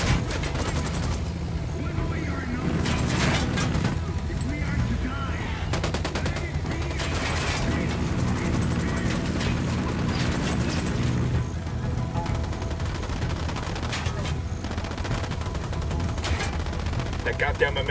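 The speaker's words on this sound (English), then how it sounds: "I'm opening fire." Sustained automatic gunfire in the Ghost Recon Wildlands shooter game, dense rattling volleys with short pauses and a few heavier bangs, voices faintly mixed in.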